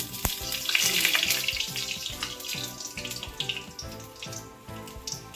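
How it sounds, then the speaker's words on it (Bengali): Panch phoron, dried red chili and bay leaf frying in hot oil for a Bengali potato and eggplant jhol, a close sizzle with crackles over a rhythmic clattering in the background, no voices. "আমি প্রথমে পাঁচফোড়ন দিয়ে দিলাম, তারপর শুকনো লঙ্কা, তেজপাতা,"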